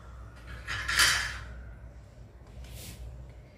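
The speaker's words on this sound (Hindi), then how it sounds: "ये देखिए अब हम जो है सांचे से इडली को निकाल के अरेंज कर दे रहे हैं।" Rava idli lifted out of a metal idli mould, giving a soft metallic clink and scrape near the start and a fainter clink toward the end, over a low steady kitchen hum.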